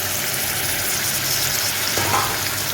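Chopped onion and tomato sauté in a hot pan for a chutney, giving a steady, close, loud sizzle and frying crackle throughout with no talking.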